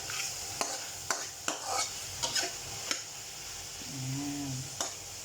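Chicken pieces for a chicken curry sautéing in a pan, a steady close sizzle broken by sharp clinks and scrapes of a utensil stirring, with a brief low tonal hum near the end.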